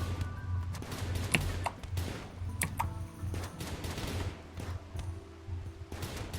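Rapid bursts of gunfire from the Rimworld video game crackle over a steady low hum, with sharper shots standing out now and then against continuous busy action.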